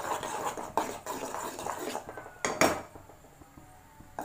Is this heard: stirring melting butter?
yes